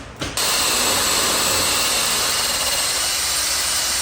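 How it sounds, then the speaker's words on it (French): A powered wire brush scrubs a new Mercedes brake caliper before painting, giving a loud, continuous high grinding whir that starts abruptly after a brief pause and holds steady to the end. "obligé d'y aller à la brosse métallique en fait pour enlever tout ce qui peut être incrusté dans l'étrier"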